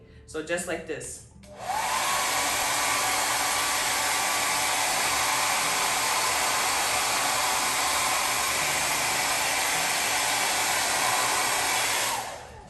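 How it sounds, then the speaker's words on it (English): A blow dryer is used on short men's hair being stretched out after cornrowing. It switches on after a brief spoken line and then holds a loud, steady, close whoosh for about ten seconds before cutting off. "And then I'm gonna use my blow dryer to stretch that out so it can stay."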